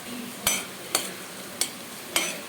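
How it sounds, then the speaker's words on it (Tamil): Masala and whole spices sautéing in hot oil, a low background sizzle punctuated by four sharp, evenly spaced spatula strikes against the pan, close up with no voices. "இதை வந்து நல்ல ஒரு வதக்கு வதக்கிடுவோம்"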